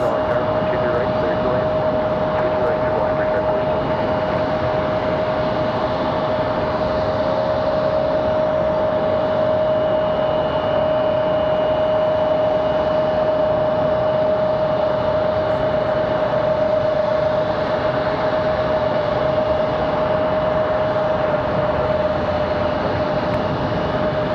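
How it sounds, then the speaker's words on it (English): An American Airlines airliner departing RDU Raleigh-Durham International Airport gives a loud, steady jet engine roar with a sustained high whine throughout, heard from a spotting position. "American Airlines 2640 off to Dallas, Fort Worth."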